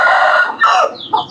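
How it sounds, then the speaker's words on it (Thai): A rooster crows loudly and close, one strained, drawn-out call breaking into a couple of shorter rising notes at the end. "โอ้ไก่"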